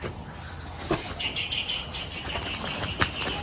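A giribaz pigeon is released and flaps its wings in a rapid, loud fluttering burst close by, followed by lighter wingbeats and a few faint chirps.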